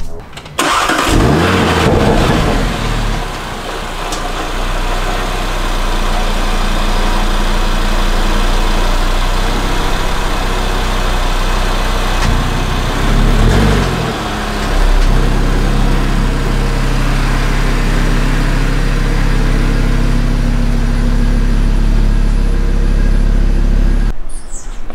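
A 2018 Audi RS3 engine starts up loud and close, then idles and rumbles steadily as the car pulls slowly into a garage, with a brief rise in revs partway through before it shuts off at the end.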